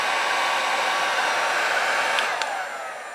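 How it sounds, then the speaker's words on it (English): A heat gun set to about 500 degrees blows a steady, loud, broadband rush of air, held continuously before easing slightly near the end, with no talk over it. "I'm setting it for about 500 degrees on the heat gun."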